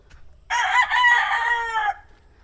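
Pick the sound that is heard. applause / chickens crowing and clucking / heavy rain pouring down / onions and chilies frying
chickens crowing and clucking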